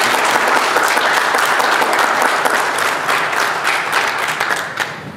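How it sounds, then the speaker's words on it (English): Wedding guests break into loud, dense applause at a reception, a full crowd of hands clapping steadily before the sound thins and tapers off at the very end. "so clap them again"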